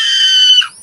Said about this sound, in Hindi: जैसे ही वह चीखती है,